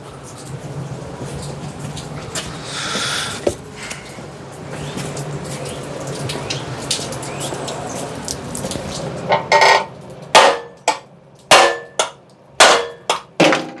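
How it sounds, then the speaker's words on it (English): A larger hammer strikes a bicycle frame during frame work, ringing metallic clangs landing one after another, sparse at first and then a run of loud, sharp blows spaced about half a second apart near the end. "Let me get my bigger hammer."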